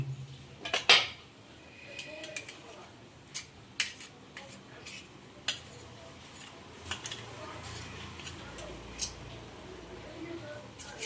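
Metal ladle knocking and scraping against a pan while sandesh is made from milk, giving sparse sharp clinks and scrapes at irregular intervals over a quiet kitchen background, close by.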